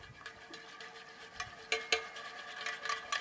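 Blackened seasoning being mixed in a bowl, with scraping, clinking strokes of a utensil against the bowl coming in uneven bursts, a few sharper hits toward the end, close and fairly quiet with no talking.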